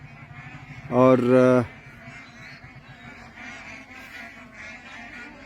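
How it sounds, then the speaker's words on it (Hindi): Migratory geese and ducks at a wetland give one loud, brief burst of honking calls, then fainter bird sounds continue under someone talking. "ये परिंदे जो हैं दूर देश से आते हैं।"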